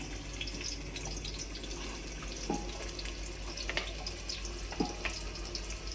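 Onion frying in hot oil for a village-style chicken dish, a steady hissing sizzle with a few faint pops and clicks, even and continuous throughout.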